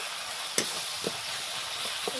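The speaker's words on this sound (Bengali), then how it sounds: "লাড়াচাড়া করে আমি ভাজে নেব" Chopped tomatoes and spices fry in a pan, making a steady sizzle with a few soft scraping stir strokes, no voices.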